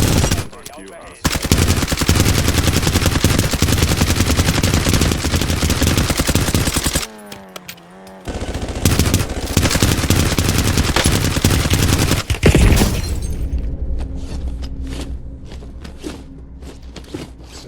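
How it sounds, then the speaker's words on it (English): Loud, sustained rapid-fire gunfire from a Call of Duty video game, a continuous rattling barrage broken by a short lull, then more bursts and scattered single shots fading toward the end. "Somebody's shooting us in the back."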